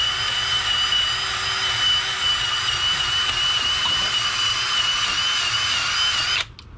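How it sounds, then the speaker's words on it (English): Brake rotors from a Chevy Blazer turned on a lathe in a workshop, a loud steady high-pitched cutting whine that runs continuously, then abruptly stops near the end. "just gonna turn my rotors real quick"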